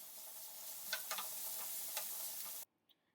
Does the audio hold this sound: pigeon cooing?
no